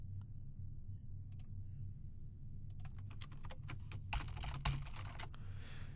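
Keys clatter on a computer keyboard in a burst of quick, uneven taps that builds toward the end, fairly close over a steady low hum.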